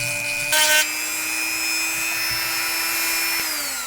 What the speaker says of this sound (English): I decided that filing by hand is too slow, so I'm gonna use the Dremel